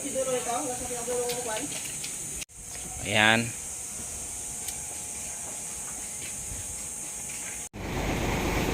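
Air hisses steadily from a leaking fitting on the airbag suspension of an Isuzu truck, a constant broadband hiss close by, with someone speaking briefly at the start.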